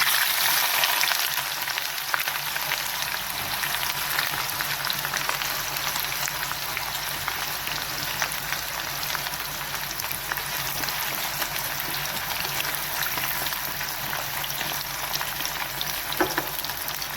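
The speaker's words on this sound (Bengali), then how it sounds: "ভালো করে পেঁয়াজটা ভেজে নেব।" Onions sizzle steadily in hot oil with caramelising sugar while mutton liver kosha is cooked, a dense, even frying hiss that runs unbroken at close range with no voices.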